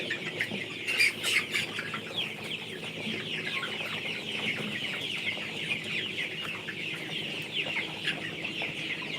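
A flock of chickens clucks continuously, with overlapping calls forming a busy, steady chatter and no talking.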